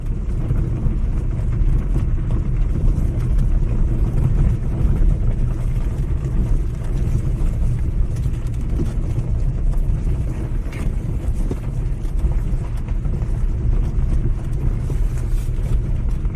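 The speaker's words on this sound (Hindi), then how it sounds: "ऑलरेडी यहाँ पे मतलब गाड़ियां चलनी शुरू हो चुकी हैं।" Vehicles moving along a forest road in Jim Corbett at night produce a steady, low engine rumble. It mixes with wind noise and holds at an even level throughout, with no speech.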